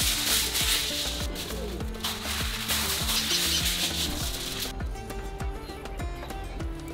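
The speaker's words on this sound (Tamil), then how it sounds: "இனி அப்படியே நாங்க மானை வரி வரியா கட் பண்ணி மசாலா தடவணும்" Hands rub masala into cut strips of deer meat for a tandoori barbecue. The rubbing makes steady, rhythmic, close strokes that repeat quickly throughout.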